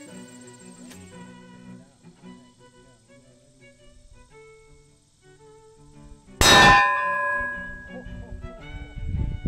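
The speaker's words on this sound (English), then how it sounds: "after this round goes off, you can start seeing all of the sparks or fireworks going off into this plate" A 12 gauge armor piercing incendiary shotgun round strikes a Predator Armor Level III plate with a single sharp, loud metallic clang that rings on briefly, following a quieter stretch of faint tonal background.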